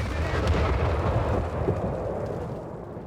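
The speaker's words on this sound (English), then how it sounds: "Were those bomb explosions just delayed or what?" Deep rumbling bomb explosions in the video game Company of Heroes 3 roll and boom together, heavy and loud at first, then gradually fade into a dull, distant rumble.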